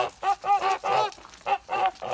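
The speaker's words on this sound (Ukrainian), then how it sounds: "Мені здається, що це дві гуски сірих." Kholmogory geese, apparently two grey females, honking by a stream: a close, loud series of about seven nasal honks in short bursts with brief pauses between them, and no voices.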